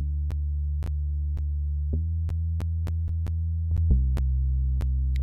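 Moog Voyager synth bass played dry and uncompressed, a sustained low tone with sharp clicky note attacks retriggering every half second or so, with a pitch change partway through, steady and alone without any voices.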